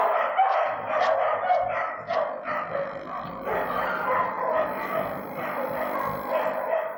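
Several dogs bark and yip in the kennels at Battersea Dogs Home, an overlapping chorus of barks at mid distance with a whimper or two mixed in.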